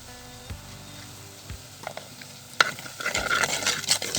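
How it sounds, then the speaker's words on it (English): Sugar being stirred in a pot of festive Sinhala and Tamil New Year food cooking over a fire, soft scraping and clinking strokes over a gentle sizzle that grow busier and louder toward the end. "and stirs well."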